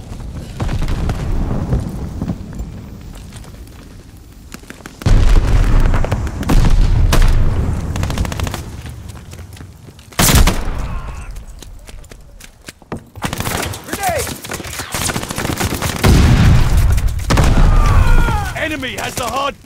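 Call of Duty Vanguard multiplayer battle with grenade explosions and gunfire, loud booms and bursts of shooting coming in waves, while game voices call out over the action.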